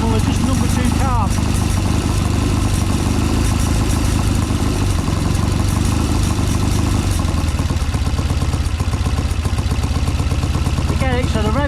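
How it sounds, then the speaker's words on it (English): Triumph Bonneville T140V twin with Amal 930 Concentric carburettors idling on the bench during carb balancing, one plug lead disconnected; a steady, close, loud engine rumble with even pulsing throughout, brief mechanical clatter near the start and end. "getting the idle set up with the engine running"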